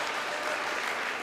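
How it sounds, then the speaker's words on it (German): Audience clapping at a ball in Wiener Neudorf, a dense burst of applause from a crowd indoors, steady and fairly loud throughout the short stretch. "Applaus ist das Brot der Künstler"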